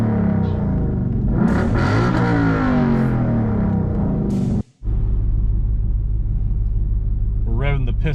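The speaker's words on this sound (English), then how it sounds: "We're revving the piss out of it." A 2012 Ford Mustang Boss 302 V8 revving hard close by, a loud rough roar that rises and swells, cuts out abruptly for a moment, then settles into a deep idle rumble as voices break in briefly near the end.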